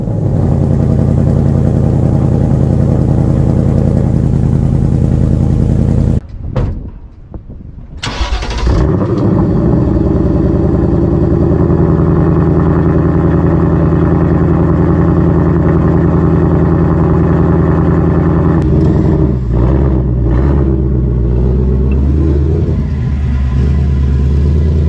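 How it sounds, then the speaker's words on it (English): A 2024 Ford Mustang GT V8 with factory exhaust idles with a deep, loud rumble, briefly cuts out, then restarts and settles back into a steady burbling idle. "that is an example of the factory exhaust"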